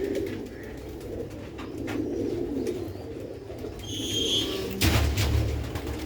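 Sialkoti pigeons coo steadily in low rolling calls, a male following a female, with a higher brief sound near the middle and a sudden louder thump toward the end; no speech.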